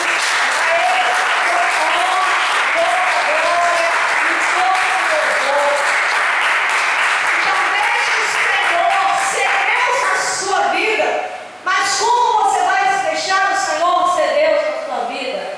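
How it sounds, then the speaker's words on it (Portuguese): Sustained, loud applause from a large church congregation fills the space, steady clapping that continues as music and a voice rise over it near the end. "Vamos dar uma salva de palmas para Jesus."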